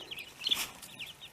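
Backyard chickens cluck softly during feeding time, a few short, fairly quiet calls scattered over a low outdoor background.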